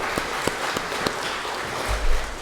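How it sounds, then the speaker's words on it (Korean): Applause from a church congregation at a Sunday worship service, a steady wash of clapping with a few sharper claps standing out and a low thump near the end. "큰 박수로 하는 겁니다"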